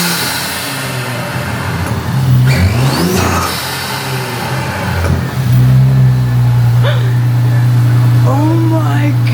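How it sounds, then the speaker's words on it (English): Modified Audi engine revving through a new intake, a loud sustained drone with rising throttle blips, heard close under excited talk and exclamations. "this intake sounds insane"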